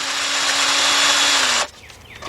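A powered socket tool whirs steadily with a high buzzing drone while loosening a bolt on a 2005 Nissan Pathfinder 4.0 during a spark plug job, close and loud, stopping abruptly after about a second and a half.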